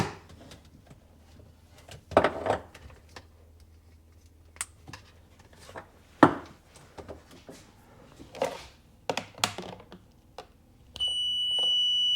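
Electronic beeping at a Sea-Doo MPEM repair bench on a 1997 personal watercraft, heard amid handling clicks and taps, with a steady tone entering near the end; no speech.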